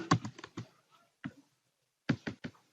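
A few scattered keystrokes on a computer keyboard tap out an amount, falling in two short bursts with a pause between, close and fairly quiet.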